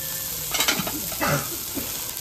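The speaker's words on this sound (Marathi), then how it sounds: "त्याला तेल चिकायला लागतं म्हणजे फ्राय करायला." Steady sizzling of prawns frying in hot oil until crisp, with a few scraping stirs of a utensil, close by and with no talk.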